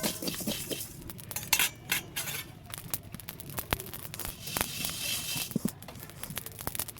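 Panch phoron spices are stirred in hot oil in a wok, with a spoon scraping and clinking against the metal in quick, irregular strokes, quiet and close.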